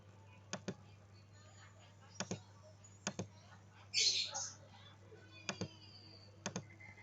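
Computer mouse clicks and keyboard keys while working in SPSS statistics software: a few sharp, quiet clicks, often in quick pairs, spaced a second or so apart over a low steady hum, with one brief brighter burst midway.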